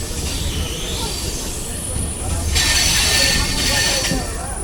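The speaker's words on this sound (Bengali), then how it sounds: "অনেক ট্রেন এপাশ দিয়ে ওপাশ দিয়ে পাস হয়ে যাচ্ছে" Local trains pass near Dum Dum while another sits at a signal, with a heavy rolling rumble that swells midway, plus a thin high wheel squeal and faint voices in the background.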